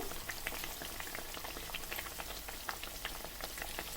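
Arisalu, rice-and-jaggery sweets, frying in hot oil for Sankranti, giving a steady close crackling sizzle with scattered bright pops throughout and no voices.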